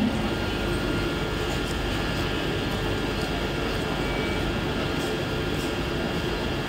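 Steady low rumble of a fast Mumbai suburban local train at Diva Junction platform 3, bound for Badlapur, with broad noise filling the platform, continuous and fairly loud, with faint voices in the background.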